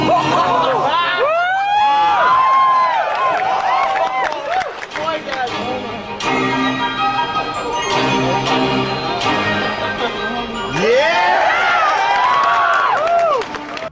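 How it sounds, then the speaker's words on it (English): An E3 audience reacts to the Super Smash Bros. Melee reveal with loud cheering, whoops and applause mixed with swooping game music and sound effects, the roar swelling near the start and again near the end. "The cheers, the awes, the applause, all of it got people hyped to settle it in Smash."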